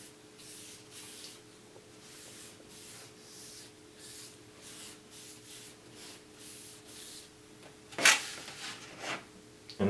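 A brush drags acrylic gesso across a board in a steady series of soft, close, quiet swishing strokes, with a brief louder scrape near the end.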